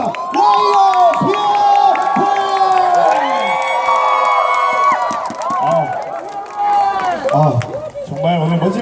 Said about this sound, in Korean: 다시 한 번 뜨거운 박수를 부탁드리겠습니다